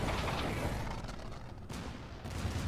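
Rapid weapon fire and explosive bursts during a Call of Duty: Infinite Warfare Frontline match, a dense, continuous barrage of loud booming shots with short gaps, no talking.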